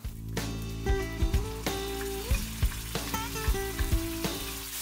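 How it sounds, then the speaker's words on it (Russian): Sauce poured into a hot pan of mapo tofu sizzles steadily while a utensil clatters and scrapes repeatedly, stirring in an uneven rhythm, close up. "Теперь вливаем наш соус."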